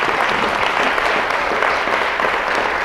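An audience claps after a talk on recovering from perfectionism, a dense, steady wash of applause that fills the room at full strength from start to finish with no pauses.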